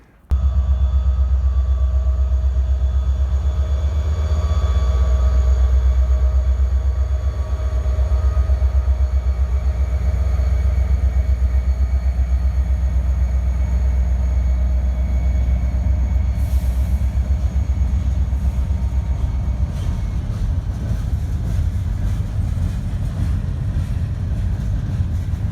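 A heavy freight train rumbles steadily close by, with a constant low-end roar and some wind buffeting, continuing without pause.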